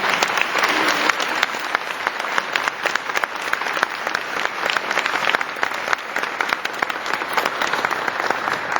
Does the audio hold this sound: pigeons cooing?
no